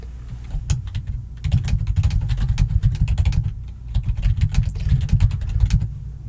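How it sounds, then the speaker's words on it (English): Rapid, loud keyboard typing during a job-interview roleplay, dense clattering keystrokes in bursts over a low rumbling background, no talk. "I will be typing extensive and some might say excessive notes."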